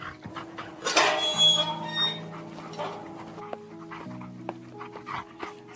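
A dog trails close behind someone heading out to open a gate, panting audibly with small whimpers and squeaks over faint tonal background sounds.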